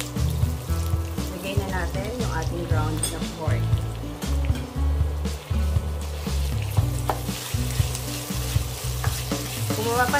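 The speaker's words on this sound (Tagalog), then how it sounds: "habang ginigisa natin siya, nawala na yung kulay red doon sa karne" Meat sautés in a pan with garlic and onion, a loud close sizzle punctuated by frequent scraping and stirring clatter, with a voice talking over the cooking at times.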